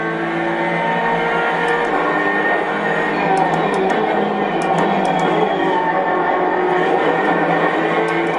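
In the racing sim Assetto Corsa Competizione, a race car drones along with a steady engine note while its tyres hit the kerbs, putting sharp rattling clicks over the constant hum.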